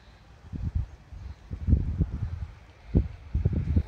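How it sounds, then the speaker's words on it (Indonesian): Strong autumn wind gusts through a village with falling leaves on an October morning, buffeting the microphone in low, rumbling surges that rise and fall irregularly. "Anginnya kenceng banget"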